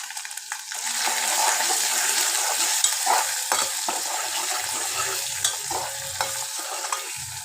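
Spices, turmeric and ginger frying in a pan for a ponnaganti leaf fry, giving a steady close sizzle with soft stirring scrapes and occasional clinks, alone without talk.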